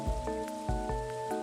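Gentle rain falls in the farming video game Stardew Valley, a steady soft patter heard alone with a sustained flute-like melody and light plucked notes over it.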